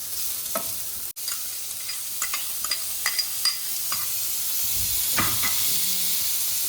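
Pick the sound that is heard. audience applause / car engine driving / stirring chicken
stirring chicken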